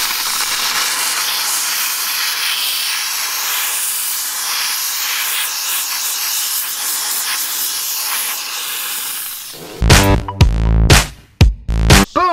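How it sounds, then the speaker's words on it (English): A steam cleaner blasts into the creases of a car interior with a loud, continuous hiss for about nine seconds, then breaks into short, sputtering bursts and clatter as the jet moves around. "So I'm just going to take my steamer and blast it in."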